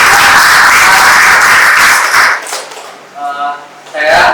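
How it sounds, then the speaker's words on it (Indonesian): An audience at the close of an academic session on Archimedes screw generators claps loudly for about two seconds before the applause fades, leaving a voice speaking over quieter room sound. "mari kita berikan tepuk tangan sekali lagi"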